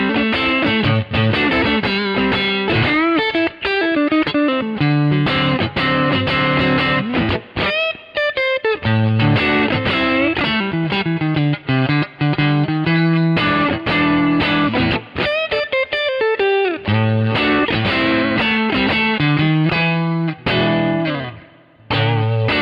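Electric guitar played through a Kemper profile of a blackface Fender Twin Reverb amp, clean, bright tone with shimmering chorus-like effect, chords and melodic runs ringing continuously, no voices.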